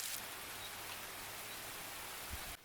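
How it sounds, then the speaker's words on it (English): Hail falls in a steady dense patter, a constant fine hiss of small impacts throughout, fairly faint and with no one talking. "So surprise, it's hail."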